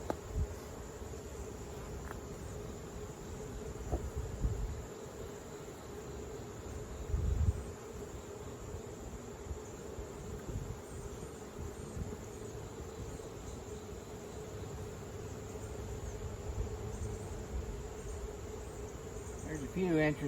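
Honeybees buzzing around a mating nuc being made up for a virgin queen, a steady close insect drone that holds through the whole stretch with a brief louder swell partway.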